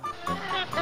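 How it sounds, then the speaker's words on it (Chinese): Ducks quacking at a village farm give a few short nasal calls close by, with brief gaps between them. "嘿，鸭子，"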